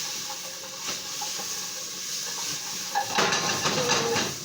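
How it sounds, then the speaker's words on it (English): Browning chicken stirred in a hot pan, a steady hiss of searing meat with a few scattered utensil taps, then louder scraping and clinking of the stir near the end, close and without talking. "I'll go ahead and give it a stir."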